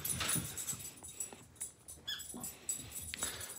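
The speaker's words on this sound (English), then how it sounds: "He's a miniature schnauzer." A twelve-year-old miniature schnauzer whimpers and yips in a few short, high, breathy bursts at close range, with small pauses between whines and no talking.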